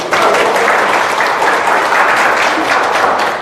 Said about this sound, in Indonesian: Tepuk tangan dong buat TR90